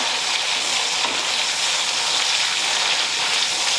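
Mint leaves and coriander leaves sizzling steadily in hot oil while being fried, a continuous dense crackle at even loudness for the whole stretch with no talking.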